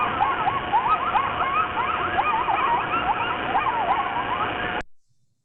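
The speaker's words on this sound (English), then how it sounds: "in the fall, you often hear family groups yapping like crazy" A chorus of high, wavering yips and yelps overlaps continuously against a steady hiss, then cuts off abruptly near the end.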